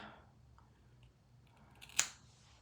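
Scissors snip natural hair once, a single sharp, close cut standing out briefly against a quiet room with faint background hum.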